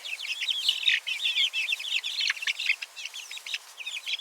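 Young chicks huddle together in tall grass, giving a dense, steady chorus of high peeping and chirping, close and continuous with no talk.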